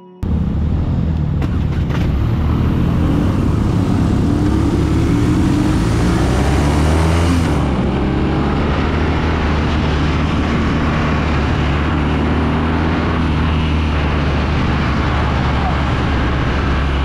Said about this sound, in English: this has an Akrapovic exhaust stock from the factory